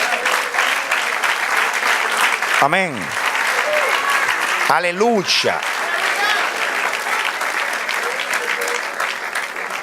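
A church congregation applauds during a service, sustained dense clapping filling the space at a loud, even level while voices call out over it twice.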